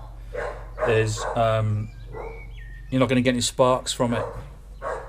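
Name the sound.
dog barking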